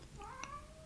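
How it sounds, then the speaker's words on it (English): Cat meows faintly in the background, a single brief rising call in a quiet indoor room. "if you can hear her meowing in the background"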